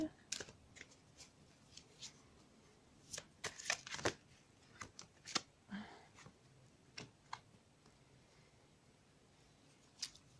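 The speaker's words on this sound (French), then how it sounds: "Donc nous allons tirer les cartes pour ce début de week-end, pour le domaine général" Cartomancy cards being shuffled and drawn by hand, soft irregular flicks and slaps of card stock with short riffling bursts, close and quiet.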